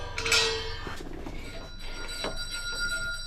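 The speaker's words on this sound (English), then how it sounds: "I love those doorbells." A house doorbell rings during a parcel delivery round, giving a bright chime near the start followed by lingering ringing tones over a quiet outdoor background.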